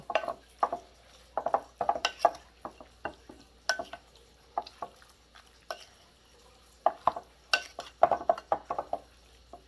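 Pepper steak ingredients stirred in a pan: irregular clinks and scrapes of a utensil against the metal, in quick bursts with brief pauses, close up over a faint sizzle.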